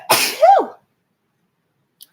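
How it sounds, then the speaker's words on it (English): A single close sneeze, a sharp breathy burst with a rising voiced cry, followed by silence. "Oh, I got to sneeze."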